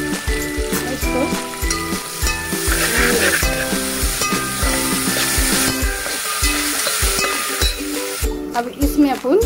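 Cumin seeds crackle and sizzle in a little hot oil for jeera rice, a dense frying hiss dotted with rapid pops and clinks of a spoon against the pan, while someone talks over it.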